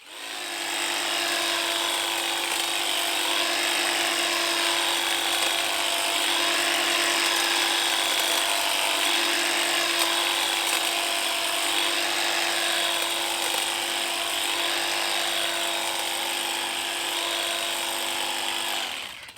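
Stihl battery hedge trimmer cutting through thick growth, a steady high-pitched motor whine with faint rhythmic blade chatter, close and continuous for the whole stretch.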